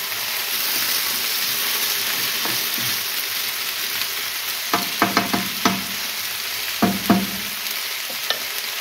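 Mushrooms sizzle steadily in a pan for a budget tikka stew, with a constant frying hiss and several close clacks of a utensil stirring them, and no voices.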